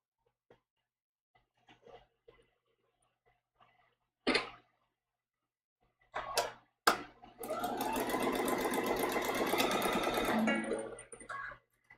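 A sewing machine stitches a foundation paper pieced maple leaf quilt block in one steady burst of a few seconds, close and moderately loud, after scattered handling clicks and short taps in an otherwise quiet room.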